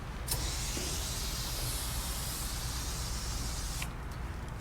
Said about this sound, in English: And this is cool because it's an aerosol. You just spray it on